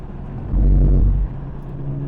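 A fast car passes on a race track, its engine rising into a loud low rumble for under a second before fading back to a steady background hum.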